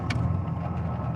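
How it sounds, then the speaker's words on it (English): A truck engine idles steadily after being restarted while chasing a P0336 check-engine fault, a low, even rumble throughout with no talking. "let me just start the truck back up"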